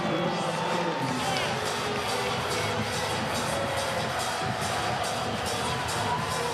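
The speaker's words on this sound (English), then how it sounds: "Crowd is not happy at all." Volleyball arena crowd at an NCAA women's regional final between Louisville and Pittsburgh, roaring and jeering steadily after a disputed out-of-bounds call, a dense, loud wall of voices with scattered shouts and whoops throughout.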